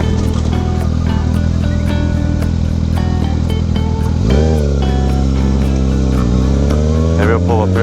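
Motorcycle engines running close by outdoors, a loud steady idle whose pitch climbs as one revs up and pulls away, with a speaking voice over the engine noise.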